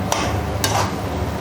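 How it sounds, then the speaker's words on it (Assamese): Sticky rice stirred in hot oil in a pan: a soft sizzle runs throughout, broken by two quick scraping strokes of the spoon, close and fairly loud. "এইটো এনেদৰে তেলত দি চাউলখিনি এনেকৈ ভাজি"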